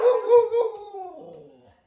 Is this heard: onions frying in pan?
no